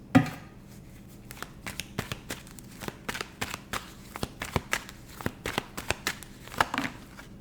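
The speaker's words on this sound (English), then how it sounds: "Last shuffle." Tarot cards being shuffled by hand in a steady series of soft, crisp snaps and flicks, close by, with no voices.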